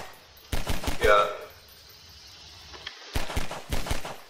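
Gunfire in the video game Garry's Mod, aimed at a car's wheels: two short rapid bursts of sharp shots separated by a quieter pause, loud and close.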